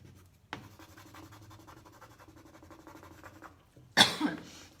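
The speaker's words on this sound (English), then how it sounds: "Burnish those with the little stick." A little stick burnishes Prima transfer onto a surface, making a quiet, rapid scratchy rubbing that carries on for several seconds. It ends with a sudden loud cough.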